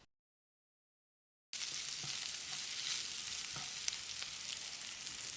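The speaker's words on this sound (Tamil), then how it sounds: "வெங்காயத்தை கண்ணாடி பதம் வர்ற அளவுக்கு வதக்கிடலாம்." Square-cut onions sizzle and fry steadily in a pan for a restaurant-style chicken dish, a loud continuous crackle starting abruptly after a moment of silence, with faint stirring ticks.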